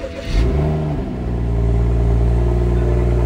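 A 2016 BMW 435i Gran Coupe with an M Sport exhaust blips and then holds a steady, deep idle-level drone, heard up close and alone with no talking.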